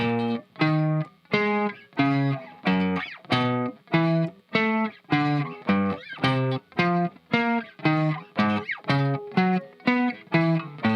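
Electric guitar plays an alternate picking exercise: a steady sequence of separate picked notes in a regular rhythm, each note short and cleanly articulated with brief gaps between.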